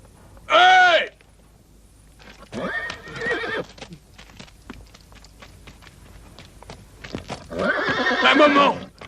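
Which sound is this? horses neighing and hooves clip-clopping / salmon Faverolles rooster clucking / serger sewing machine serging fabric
horses neighing and hooves clip-clopping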